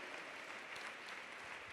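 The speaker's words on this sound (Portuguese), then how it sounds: "Vamos dar uma salva de palmas para o Senhor" A church congregation claps together in praise, a dense, steady wash of applause heard from within the crowd, fairly faint and without pause.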